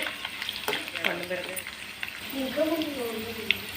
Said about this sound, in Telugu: తాలింపు వేసుకుందామండి